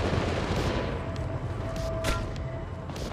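Gunfire in the video game Apex Legends comes as a dense, steady barrage of overlapping shots and blasts, loud and continuous with a few sharper cracks standing out.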